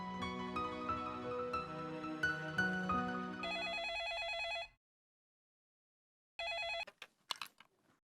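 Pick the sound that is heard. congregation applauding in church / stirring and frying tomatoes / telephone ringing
telephone ringing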